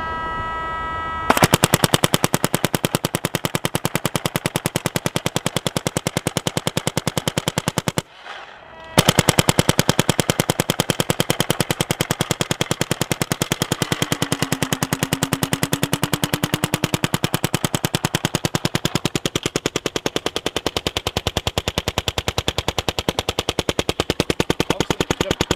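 A gun fires continuously in very rapid succession, a dense, loud, evenly spaced stream of shots running for over twenty seconds with one brief pause near the start, no talking over it.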